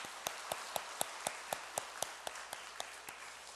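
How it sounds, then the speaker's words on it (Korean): Church congregation clapping at a Korean worship service, a quiet, distant group clap in a slow, steady rhythm of about a dozen evenly spaced beats, each one crisp and uniform, fading slightly toward the end. "우리 하나님께 영광의 박수 올리겠습니다."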